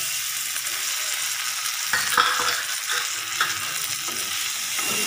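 Tomatoes are stirred into a frying masala seasoned with coriander powder, giving a close, steady sizzle. A few sharper spatula scrapes and clinks stand out around the middle.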